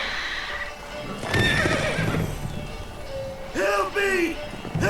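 Roach, a horse in The Witcher 3, neighs loudly twice amid quick clip-clopping hooves, with voices talking over the gallop.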